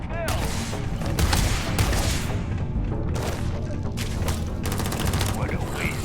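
Rapid gunfire in the space game Starfield, loud close volleys of shots and booms crackling continuously, with voices speaking over the shooting.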